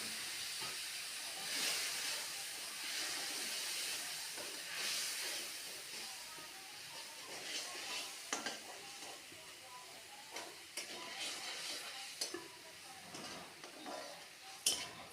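A mixture of turmeric, chili powder, salt and cumin sizzles in hot mustard oil, a faint steady hiss with soft stirring scrapes and small crackles.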